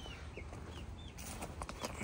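Backyard chickens, a mother hen with young, clucking in short repeated bursts close by, with faint high chirps and soft background noise.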